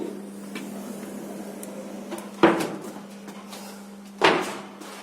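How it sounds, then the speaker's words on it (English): Lift doors on a building site rumble open twice, each a sudden clunk and slide a couple of seconds apart over a steady electrical hum. "Doors open."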